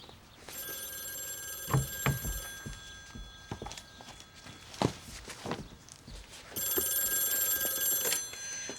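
An old telephone bell rings in two bursts, one early and one later, over footsteps and shuffling in a room.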